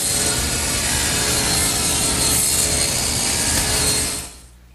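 Table saw with its blade tilted to 25 degrees rips a bevel along a wooden cabinet piece, a loud steady whine with broadband cutting noise lasting about four seconds before the blade spins down at the end.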